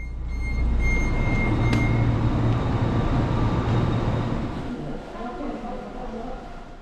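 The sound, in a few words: train arriving at Yeongdeok station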